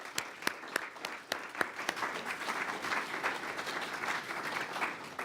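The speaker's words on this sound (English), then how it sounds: "Can we give them another round of applause?" An audience applauds panelists at the close of a discussion on Africa, with sharp individual claps at first that merge into steady, sustained clapping from a mid-sized crowd.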